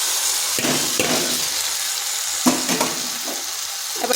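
Potatoes and ivy gourd dropped into hot spiced oil in a kadai, giving a loud continuous sizzle with a few sharper bursts as pieces hit the pan and are stirred.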